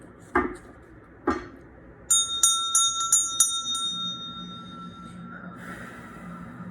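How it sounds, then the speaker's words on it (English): Two soft knocks, then a small bell rung several times in quick succession, its clear tone ringing out and fading slowly. "Let me just clear the energy with the bell."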